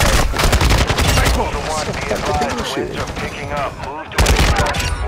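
Call of Duty: Modern Warfare II gunfire, loud dense bursts of rapid automatic shots crackling nearly nonstop, with voices and game chatter mixed in before a brief lull and a fresh volley.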